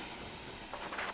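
Water poured into a hot pan of browning gyoza before the lid goes on, giving a soft, steady hiss of steam with a few brief sizzling bursts near the end, quiet and close.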